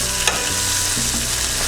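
Pork meat frying and browning in a hot pan makes a loud, close sizzle, with a sharp utensil scrape near the start and light stirring scuffs after it. No one speaks.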